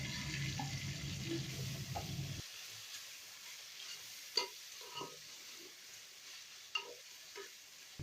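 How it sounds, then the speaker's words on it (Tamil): Ginger, garlic and onions sauté in a pan for chicken biryani, a loud continuous sizzle at first that drops away, followed by quieter scattered clinks and stirring. "சேர்த்துட்டு நல்லா வதக்கி விட்டுறலாம்"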